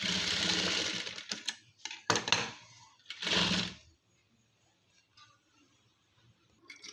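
A sewing machine stitches a latkan in quick bursts of rapid needle chatter, loud and close, then stops, leaving near silence with a few faint handling sounds.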